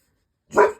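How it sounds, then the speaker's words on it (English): A single short dog bark, sharp and fairly close, after a moment of silence. "hey, no barking."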